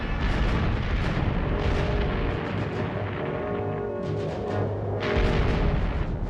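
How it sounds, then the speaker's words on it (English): Heavy naval guns of British and French warships bombarding the Dardanelles forts, a dense continuous rumble of booming blasts with sharper bursts near the start and end, loud and without voices. "The heavy guns opened up on the forts of the Dardanelles and Gallipoli Peninsula"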